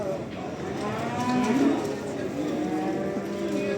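Calves at a busy livestock market moo with a long, loud, drawn-out call over a constant crowd murmur and a steady background hum.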